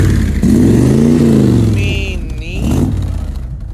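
The engine of a 1969 collector car revs up and settles, a loud, close, rising and falling drone, while people talk over it.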